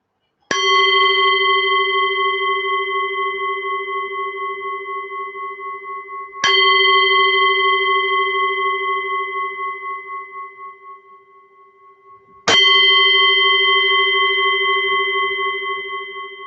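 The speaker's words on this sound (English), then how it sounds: "I'm going to ring my gong." A meditation gong is struck three times, about six seconds apart, each strike a clear metallic ring with steady overtones that hums and slowly fades in a quiet room before the next.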